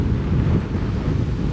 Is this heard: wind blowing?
yes